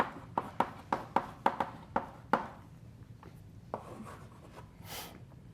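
Chalk tapping and scraping on a board as physics formulas are written in a lecture hall, a rapid run of crisp close taps followed by softer strokes and a faint squeak.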